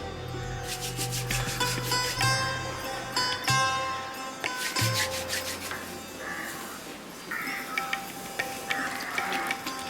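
Hands rub and knead a body during a long ceremonial massage, producing soft, irregular friction and brushing sounds close by, with a few faint clicks and no speech.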